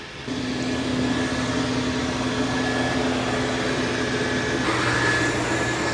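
A Dreame L10S Ultra Gen 2 robot vacuum runs with an even, continuous motor drone and a faint whine. The hum stays steady throughout, with no voices.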